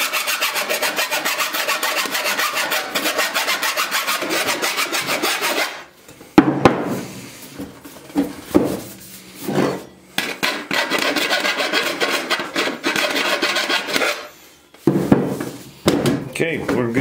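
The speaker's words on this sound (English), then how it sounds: "I'm just taking a rat tail file, and I'm just filing that edge right off of there." A rat tail file rasps a burr off the cut edge of a metal pipe for a wood burner. The strokes are loud and steady and come in long runs, with brief pauses between bursts of filing.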